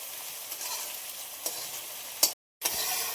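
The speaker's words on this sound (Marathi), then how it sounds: "सोनेरी कलर येईपर्यंत परतून घेऊया" Finely chopped onion frying until golden for masala matar paneer, a continuous soft sizzle with occasional stirring scrapes, briefly cut to silence near the end before resuming.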